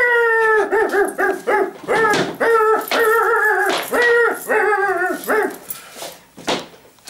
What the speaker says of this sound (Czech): kde je zase ten pes?